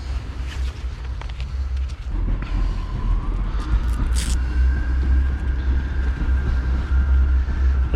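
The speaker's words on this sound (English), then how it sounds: "There's a train up there, as you can hear." A train passes on a railway overhead in an urban setting, a heavy low rumble that swells and continues with a faint rising metallic squeal over it.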